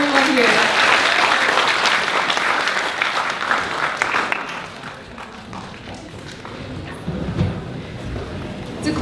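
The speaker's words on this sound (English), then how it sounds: "Please give a big round of applause once again for everyone here." An audience at a seminar applauds in a steady, loud wash of clapping that gradually thins and softens, with scattered individual claps and faint room noise underneath.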